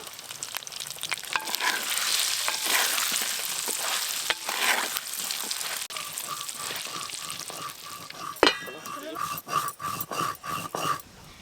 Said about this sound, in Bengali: এদিকে তেল গরম হয়ে গেছে, প্রথমে আলুগুলো ভেজে নেব